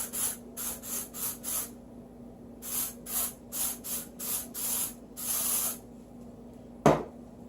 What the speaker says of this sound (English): spray this other side with the Get Layered hairspray